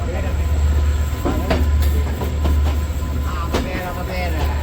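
A train travelling from Colombo to Jaffna rumbles steadily at close range, with deep low roaring and scattered clicks and clanks from the wheels and cars over the rails.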